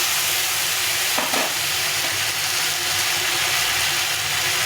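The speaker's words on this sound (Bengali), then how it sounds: "আর হলুদ গুঁড়ো দিয়ে দিতে হবে দিয়ে একটু ভেজে নিতে হবে" Vegetables frying in a pan with turmeric powder and salt, a steady close sizzle with stirring scrapes running throughout, no talking over it.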